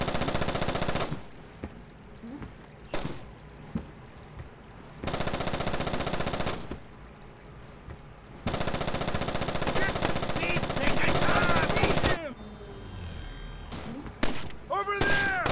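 Bursts of automatic gunfire and single shots from the stealth shooter Splinter Cell: Chaos Theory ring out loud and close in repeated volleys, with shouted voices mixed in among the shooting.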